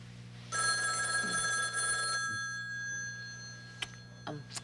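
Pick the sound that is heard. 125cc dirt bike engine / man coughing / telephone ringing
telephone ringing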